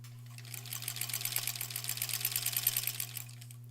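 A sewing machine stitches quilt blocks for a granny squares quilt in a quick, even run of needle clatter over a constant motor hum, close and fairly quiet, no talking.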